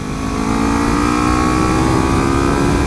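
A Kawasaki Ninja 300 fitted with a 15-tooth front sprocket, heard on a canyon test ride as a loud, close, steady engine drone climbing under acceleration along with wind rush, with no talking.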